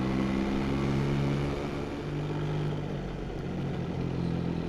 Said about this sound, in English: This 3-cylinder motor in the XSR, as I said in previous videos, it's so forgiving around these corners.